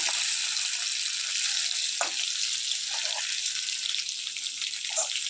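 Pieces of chicken 65 frying in hot oil give a steady, dense sizzle that hisses continuously throughout, with a few brief pops and bubbling bursts and no talking.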